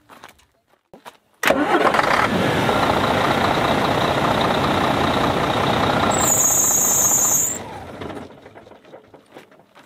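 A diesel engine turns over and catches after a quarter turn of the key, then runs loud and steady for several seconds up close before shutting off, with a brief high whine partway through.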